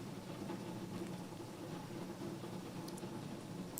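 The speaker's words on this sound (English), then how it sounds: "Dang, it's raining hard here" Heavy rain pours down in a steady, dense hiss that holds evenly throughout, with no voices over it.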